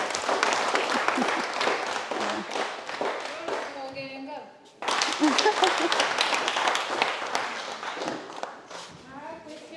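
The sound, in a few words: audience clapping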